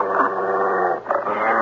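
A dog growls low and steadily in a radio mystery drama, a close continuous rumble with a brief break near the end, mixed with a voice.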